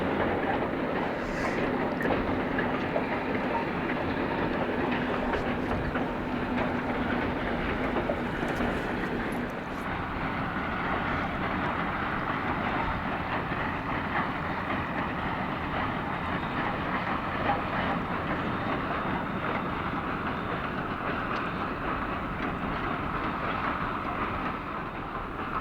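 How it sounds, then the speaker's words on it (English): Southern Railway 154 train passing close by, a loud, steady rolling rumble with faint rail clatter that holds for the whole stretch, with no talk. "The train soon returned the other way once more and headed to Knoxville to begin another trip."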